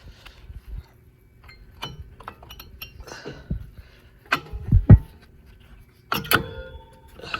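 Brake pads are pulled from an Audi A8 caliper, giving scattered metallic clinks, scrapes and clunks at close range with quiet pauses between them.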